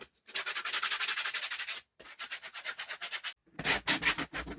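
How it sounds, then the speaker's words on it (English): A wooden candlestick being sanded by hand, with steady back-and-forth rubbing strokes in three bursts separated by brief pauses, close and fairly loud with no talk. "Give them a bit of a sand on the bottom. Give it a sand on the top."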